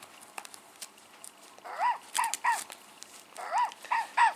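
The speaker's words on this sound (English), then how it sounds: "now he barks instead of play a sweet little ditty" A battery-powered toy robot dog gives repeated electronic barks, short synthetic yips in pairs against a background of clicking and rattling handling noise.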